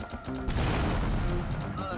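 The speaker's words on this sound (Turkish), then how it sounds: "TNT arada patladı." A loud, roaring TNT blast in a video game fills the clip with a rumbling crash, with a voice briefly audible at the start and end.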